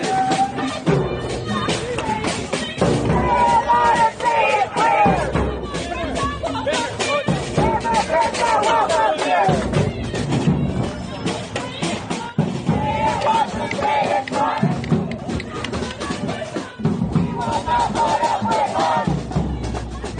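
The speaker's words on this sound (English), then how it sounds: "the crowds gathering in Chicago as I'm recording this Saturday night saying no Trump, no troops" A large protest crowd on a Chicago Saturday night chants rhythmically against Trump and troops, many voices loud and steady throughout with short pauses between chant phrases.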